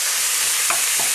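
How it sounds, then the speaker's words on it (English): Minced pork stir-fried in a pan for pork in oyster sauce, a steady close sizzle with two soft scraping stirs of a utensil against the pan. "Here I am, basically stir frying it for 2 minutes."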